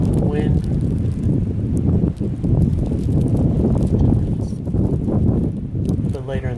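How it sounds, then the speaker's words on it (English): Wind blows during a snow blizzard as loud, steady low rumbling gusts buffet the microphone up close, with a voice faintly present underneath. "Blizzard's happening. Getting a bit of wind."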